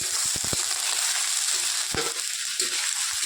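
Beaten egg mixture frying in a pan, a continuous close sizzle with a few short scraping or tapping knocks early on and near the middle.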